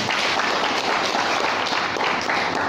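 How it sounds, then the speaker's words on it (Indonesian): Audience applause at an evening business gathering in Medan, a loud, continuous roar of many people clapping, sustained evenly throughout without speech. "Tepuk tangan dulu buat Anda, ya."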